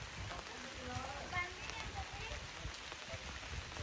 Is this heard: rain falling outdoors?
yes